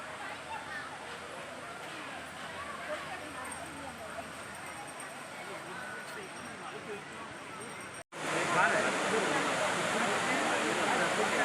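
Courtallam waterfall beside an old Shiva temple, a steady broad rush of falling water, continuous and fairly loud, growing stronger and closer after a brief cut, with a voice talking over it.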